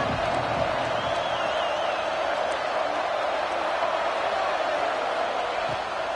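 A stadium crowd in a college football video game roars as one steady, even wall of noise, loud and unbroken throughout with no distinct voices.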